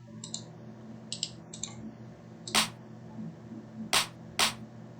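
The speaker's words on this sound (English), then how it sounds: "So let's do a clap." In FL Studio, a clap drum sample plays as three sharp, bright hits spaced across the second half, after a few faint mouse clicks, with no voice.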